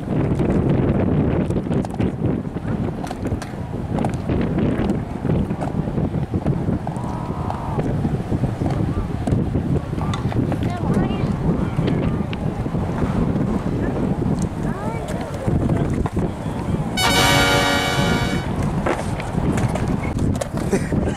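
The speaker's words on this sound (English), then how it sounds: "Windy." Heavy wind buffets the microphone outdoors during a skating session, a constant loud low roar with gusting surges that lasts the whole stretch, while people talk faintly beneath it.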